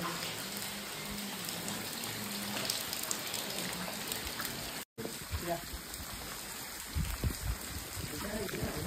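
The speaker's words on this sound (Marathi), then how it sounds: "पाऊस पण खूप मित्रांनो आहे" Heavy rain falls at Raigad fort, a dense steady hiss of drops close by, briefly cut off midway, with a voice speaking over it and some bumps and handling noise later.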